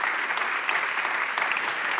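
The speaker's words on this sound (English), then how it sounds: "Once again, a round of applause to him." Dense, steady applause from an audience at the EPBN WISE Role Models award ceremony, a continuous wash of many hands clapping at even loudness with no voices above it.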